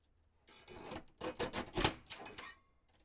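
Paper being trimmed for a junk journal, a short series of soft, close rasping and rubbing strokes that rise and fall over a few seconds, quiet and without speech.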